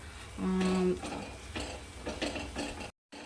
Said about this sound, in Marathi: आता यामध्ये आपण बेसन मिक्स करायचं आहे